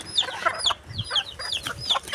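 Chickens near a coop, a few close chirps and short clucks repeating in quick irregular bursts, fairly faint against a quiet background.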